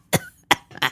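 Three sharp, hacking coughs from a man, each a short harsh burst with brief pauses between, close and fairly loud with no other sound around them.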